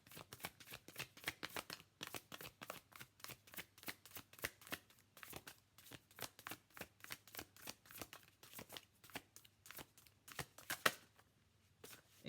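Tarot cards being shuffled by hand in a long run of quick, crisp riffling bursts that flutter in an uneven rhythm, close and fairly quiet, with a brief pause near the end and no talking.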